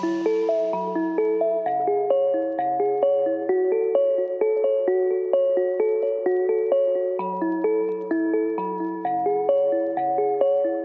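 A reversed, flattened arpeggio washed in reverb and echo, its bell-like tones repeating in a steady, cascading pattern that swells and builds over a low sustained bass layer.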